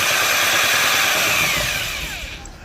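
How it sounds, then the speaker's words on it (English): A drill spinning a Forstner bit through a wooden board gives a steady, loud, close whine, which tapers off near the end as the motor winds down. "I'm going to start the Forstner bit"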